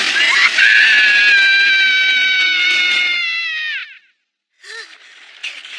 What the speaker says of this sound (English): Scary cat!